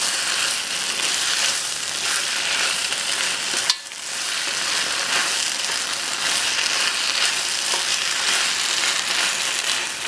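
Broccoli and beef stir fry being mixed in a hot pan, with a loud, dense, continuous sizzle and a brief utensil knock partway through, no talking.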